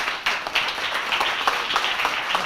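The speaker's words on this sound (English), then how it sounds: "please join me in giving a big round of applause for Michael Jagger" An audience applauds at a brand development design talk, a steady wash of clapping with scattered louder claps lasting throughout.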